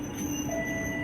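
An underground Chennai metro train pulls into a station, a steady rumble with a rising mechanical whine and faint high tones, continuous and fairly close with no talking.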